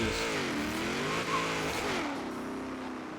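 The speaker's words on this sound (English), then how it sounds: "so just the regular launch on this car" A Chevrolet Bel Air drag car tuned for wheelies launches with a loud, close engine roar that climbs and shifts in pitch, holding a sustained revving tone with faint tire noise.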